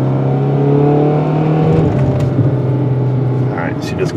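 Jeep Patriot engine with a crank sensor fault cutting out by the roadside: a steady loud idle drone that sags and wavers partway through as the motor quits, continuous for about four seconds.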